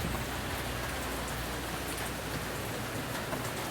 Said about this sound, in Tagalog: salamat ka sa Ginoo kay may ulan